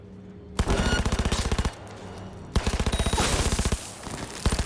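Automatic weapon fire from a newly acquired gun in Cyberpunk 2077, two long rapid bursts of loud, evenly spaced shots separated by a short pause, with a final few rounds at the end.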